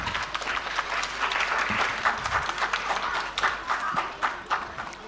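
An audience at a 2024 friendship evening event breaks into sustained, lively applause, many hands clapping together in a dense, fairly close wash that swells and pulses for several seconds.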